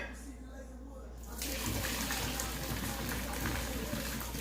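Water drains out of a cooking pot, starting as a soft trickle and then becoming a steady, close rushing pour into a sink.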